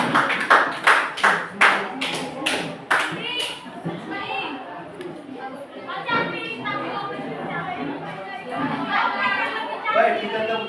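A classroom group claps in rhythm, a run of about eight loud, evenly spaced claps, followed by scattered applause and children's chatter during a lesson.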